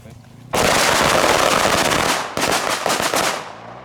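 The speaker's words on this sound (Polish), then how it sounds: "Weź te petardy." A string of firecrackers goes off in a loud, dense burst of rapid cracks and pops that rattle on continuously, briefly pause, then resume before fading.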